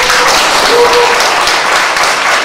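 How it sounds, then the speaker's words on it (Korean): Loud, dense applause from an audience thanking teachers at a church gathering, a continuous close roar of many hands clapping at once, steady throughout with no speech over it. "박수 한번 하겠습니다"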